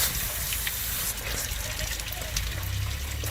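Coolant pours out steadily in a loud, close gush during a flush on a 1998 Lincoln Town Car, and a low rumble joins in near the end.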